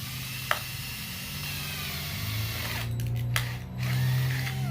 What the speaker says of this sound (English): and drill it in the hole